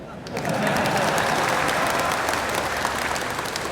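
Sustained audience applause fills a lecture hall during a speech, dense and steady clapping from a large crowd that swells quickly and holds throughout, with a few voices mixed faintly underneath.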